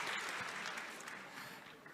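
Audience applause during a televised talk with Anies, steady mid-level clapping from a crowd that fades slightly toward the end, with no speech over it.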